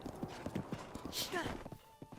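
Hoofbeats of a horse in Zelda: Breath of the Wild clop in a steady repeating rhythm through the first half, joined briefly by a neigh-like call, with game ambience and some talking mixed in.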